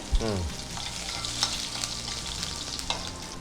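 Green chillies fry in a tempering for a curd huli, making a steady close sizzle that opens with a brief clatter and carries faint stirring clicks throughout.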